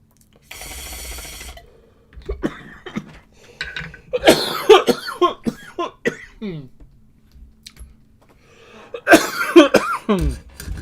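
Several harsh coughing fits, close and loud, with a short burst of hiss at the start and pauses between the bouts.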